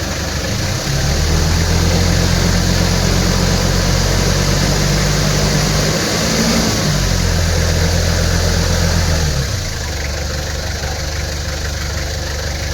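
A loud engine idles, then its revs climb steadily, hold with a brief dip, and drop back to idle, all under a constant mechanical drone.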